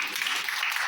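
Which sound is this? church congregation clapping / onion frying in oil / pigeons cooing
church congregation clapping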